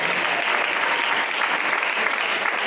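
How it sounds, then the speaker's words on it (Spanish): Sustained, dense applause fills a Pentecostal evangelical church gathering in Usulután, a loud, steady wash of many hands clapping throughout with no clear break. "Demos más fuerte ese aplauso al Señor Jesucristo"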